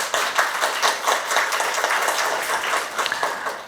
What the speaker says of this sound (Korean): 힘찬 박수 한번 부탁드리겠습니다